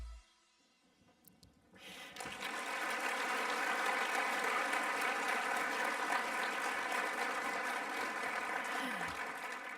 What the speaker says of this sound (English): we just gave them a great round of applause